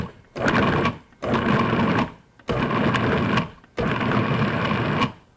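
A food processor pulses chilled butter into flour in four loud, even bursts of whirring motor about a second each, separated by brief pauses, close up with no talking.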